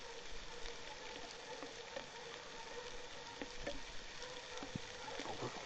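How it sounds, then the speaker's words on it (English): Rain showers falling outdoors over a hayfield, a faint steady hiss of drops with scattered small patters and ticks, distant and quiet with no voices. "I'm hoping this rain will move on out of here"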